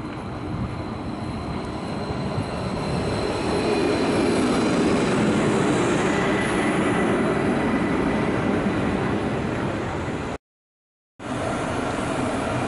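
A Norwegian-variant Stadler Flirt electric train passes at a station near Oslo, a loud sustained rumble and rush of wheels and motors that swells and holds for many seconds before cutting off briefly.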